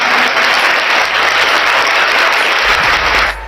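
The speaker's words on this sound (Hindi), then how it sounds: "तालियों के साथ स्वागत है।" Dense, loud applause, steady and continuous, that cuts off sharply near the end.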